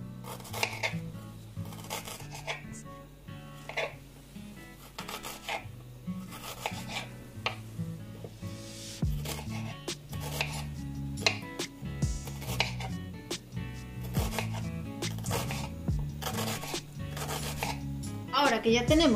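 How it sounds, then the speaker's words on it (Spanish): A knife cuts an onion, halved and sliced into thin julienne strips for a tortilla paisana, giving repeated close chopping taps on a board with some clattering kitchen sounds throughout. "Vamos a coger la cebolla, la cortamos por la mitad y la cortamos así en tiritas"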